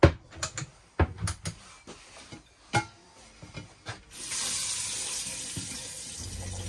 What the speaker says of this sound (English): So that's your hot water working as it should, as you can see the steam coming off the water.